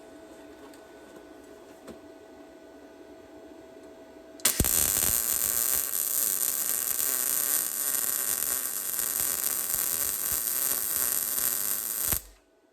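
A new MIG welder running argon lays a bead on an '84 Mustang: a loud, steady crackling buzz that starts abruptly and holds for about eight seconds before cutting off, following a quieter background hum.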